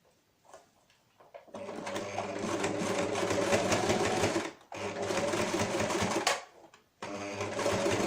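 Sewing machine stitching a fabric face mask, running steadily in three long bursts with brief pauses between them, close and fairly loud with no talking.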